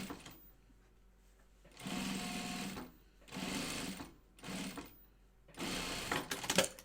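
Sewing machine stitching down the folded edge of binding on a Chicken Boots Wallaby garment, running in four separate bursts of steady mechanical whirring between quiet pauses, close and moderately loud.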